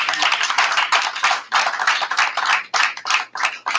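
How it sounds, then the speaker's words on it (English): A modest audience at a school board meeting gives students a round of applause. The close, crisp clapping comes in uneven bursts with brief gaps. "one more round of applause for the students"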